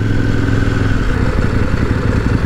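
Near and loud, a KOVE 800X or CF Moto 800MT X adventure motorcycle accelerates and then engine-brakes, the engine drone rising and falling over a clattery, rough exhaust note.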